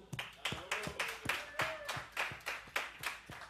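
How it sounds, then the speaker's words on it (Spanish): Audience clapping for bands at a hip-hop band final, a quiet, loose burst of handclaps with irregular rhythm from a small nearby group, heard on its own. "le damos este aplauso"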